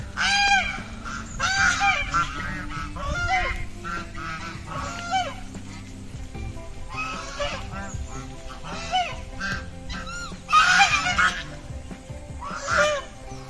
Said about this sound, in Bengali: সাদা ধবধবে পুরো রাজহাঁস